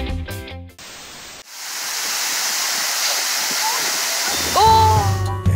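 A waterfall roars as a steady, loud broadband rush through most of the stretch, with brief thumps and a voice at the start and a vocal sound near the end.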